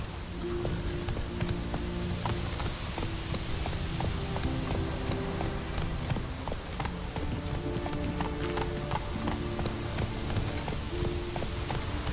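Horse hooves clip-clop steadily during a ride in the video game Witcher 3, a continuous rhythmic gallop under music and ambient game sound.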